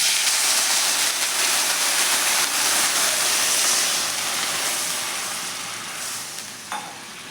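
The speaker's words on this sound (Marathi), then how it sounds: "आता यामध्ये आपल्याला थोडंसं पाणी घालून घ्यायचं आहे।" Water poured over green chillies in a hot pan sets off a loud, steady rush of sizzle and steam hiss that slowly fades over several seconds, close and alone.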